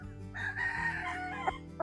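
A rooster on a gamefowl farm lets out one loud, close crow that rises and holds for nearly two seconds. A few short clucks follow it, and no one speaks.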